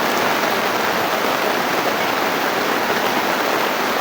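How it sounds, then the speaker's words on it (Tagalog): Heavy rain pours down as a dense, steady hiss that stays loud and unbroken the whole way through, with no voices over it. "Pakalakas sa ulan."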